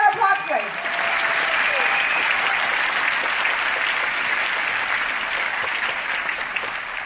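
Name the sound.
audience applause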